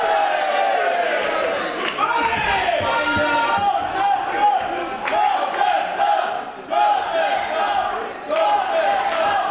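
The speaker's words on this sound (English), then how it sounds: "The Crowchester fans here in the crowd trying to get their man back into this" A wrestling crowd at a live show roars and chants to rally behind Crowchester, a dense sustained wall of voices with sharp shouted peaks.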